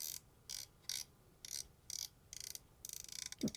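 The volume control knob on a headphone amplifier is turned in short ratcheting bursts, a series of close, faint clicky detent sounds with brief pauses between them, ending in a slightly louder click.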